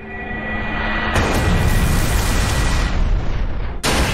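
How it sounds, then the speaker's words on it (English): Lunar Cannon attack in the monster-battle game Manamon 2, fought during a catacomb boss battle: a loud, sustained roaring blast that swells after a second and rumbles on for about three seconds before cutting off sharply, with no talk over it. "Faupierre used Lunar Cannon."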